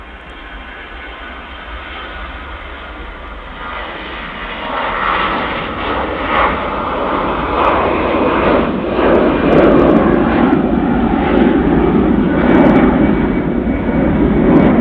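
Airliner departing Manchester Airport, its engine roar swelling gradually from a moderate rumble to a loud, sustained thunder over the runway, heard alone without talk.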